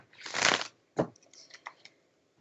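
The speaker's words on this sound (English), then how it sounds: "I'm going to go ahead and shuffle these cards" Playing cards riffled in one loud, dense burst, followed by a few softer flutters and clicks as the deck is squared up.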